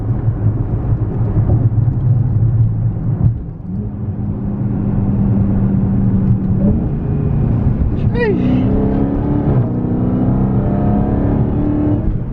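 A Dodge Charger Hellcat's engine drones steadily from inside the cabin, then rises in pitch as it accelerates hard and pulls through the gears, with a voice speaking over the engine noise.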